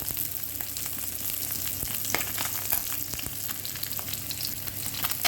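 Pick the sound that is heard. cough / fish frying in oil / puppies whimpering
fish frying in oil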